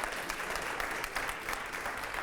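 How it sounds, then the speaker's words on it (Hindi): A live audience at a televised political Q&A with minister Gajendra Singh Shekhawat breaks into dense, continuous applause that stays loud throughout. "बहुत जोरदार तालियां होनी चाहिए"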